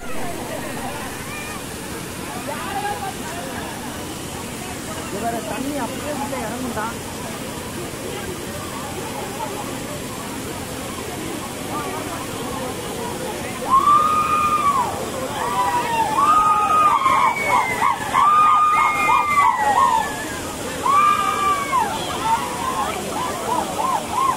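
A waterfall splashes and roars steadily and loudly throughout, with people talking and calling out over the rushing water.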